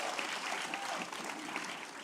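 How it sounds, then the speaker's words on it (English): An audience applauds Ryan at a Black History celebration honoring living legends of the civil rights movement, a steady wash of clapping that stays even throughout with no clear voice over it. "y'all give Ryan a huge round of applause."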